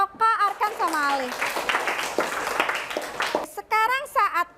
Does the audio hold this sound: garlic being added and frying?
no